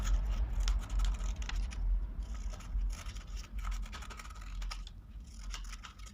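Scissors cut paper strips for a children's appliqué craft, giving quick, irregular, close snips and rustling scrapes over a low background hum, with no talk.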